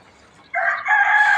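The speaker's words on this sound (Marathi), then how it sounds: "सारखं ओरडत चालू करतात कोंबडे बी" A neighbour's rooster crows nearby in a rural yard, one loud, drawn-out call that rises after a quiet start and holds strongly to the end.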